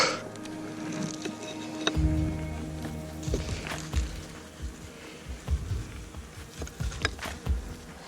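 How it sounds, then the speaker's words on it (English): A large winter cluster of honeybees inside a hive during a January inspection and feeding with a sugar block, giving a soft, steady buzz under scattered knocks and handling noises close by. "This is a big cluster of bees."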